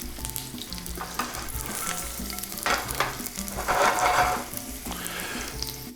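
Crushed garlic sizzles in a hot pan, a steady, close frying hiss that flares briefly now and then as it is stirred, with no voices.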